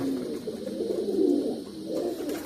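A pouter pigeon coos in low, throaty, rolling notes, close by and steady, with no voices over it.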